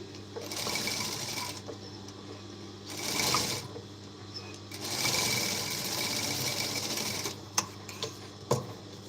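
Sewing machine running in several bursts while stitching a blouse neckline, with steady mechanical whirring broken by short pauses and a few sharp clicks near the end.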